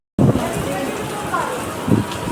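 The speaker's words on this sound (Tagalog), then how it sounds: "Ang lakas ng ulan." Steady, dense hiss of heavy typhoon rain pouring nearby, with a few brief voices breaking through underneath.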